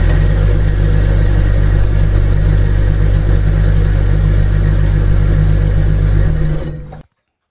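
A ceiling fan coil winding machine runs steadily with a low motor hum and dense mechanical whir, holding an even, loud level before winding down and stopping near the end; no one speaks.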